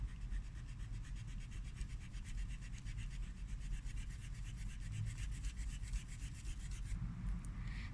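Steady rhythmic rubbing over a dried ink mandala drawing on paper, a close, even scratchy back-and-forth that continues throughout.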